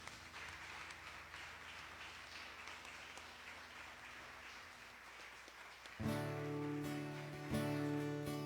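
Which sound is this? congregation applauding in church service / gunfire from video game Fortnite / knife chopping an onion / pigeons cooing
congregation applauding in church service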